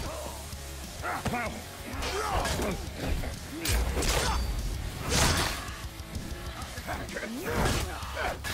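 Dogs bark and snarl amid clashing weapon whooshes and impacts during combat in the video game For Honor, loud and busy, with someone talking over the fighting throughout.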